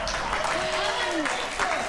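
Studio audience clapping on a talk show, a steady wash of many hands heard beneath overlapping voices speaking and calling out.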